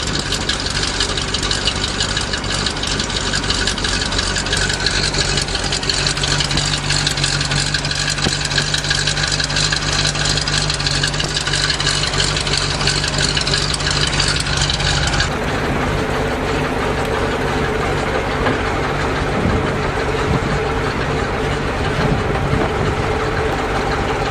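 A 427 dump truck engine idles after being repaired, running loud and steady with a constant rumble throughout, the tone shifting slightly partway as it is put in gear, with no voices.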